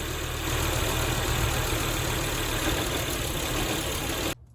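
Volvo S80 engine idling after PCV system oil trap work, a steady dense rumble held evenly for about four seconds before cutting off abruptly.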